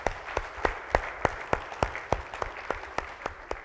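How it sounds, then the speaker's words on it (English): Rhythmic unison clapping from an audience at a Tally Middle East roadshow event in Dubai, roughly three claps per second in a steady beat with no talk. "Clap for the Tally team, please, together."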